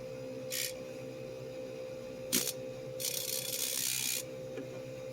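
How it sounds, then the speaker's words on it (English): During a repair of an Onkyo TA2600 cassette deck, a blade is rubbed against an edge in short scraping bursts, two brief ones and then a longer stroke, faint over a low steady hum. "I'm gonna take my blade and I'm going to actually grind a little bit"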